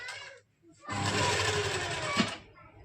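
A sewing machine runs long basting stitches along the centre crease of a lined V-neck suit, with a short burst, a pause, then a longer steady close-up run that stops.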